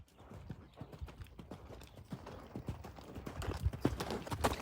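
A horse loping under saddle, its hooves striking the ground in a steady, repeated clip-clop rhythm that grows slightly louder and nearer over a few seconds.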